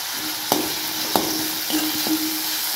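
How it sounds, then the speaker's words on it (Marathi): Tomato masala stirred and cooking in a pan, a steady soft sizzle broken by a few sharp taps of the spoon against the pan. "सर्व असं मिक्स करून घ्यायचं आणि छानपैकी असं शिजून घ्यायचे"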